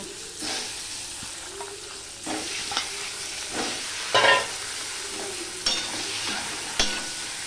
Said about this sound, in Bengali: এবার এগুলো আমি ভেজে নেব